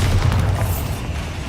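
A Bombarda spell in the game Hogwarts Legacy goes off as a deep, booming explosion that rumbles loudly, then fades over a second or so.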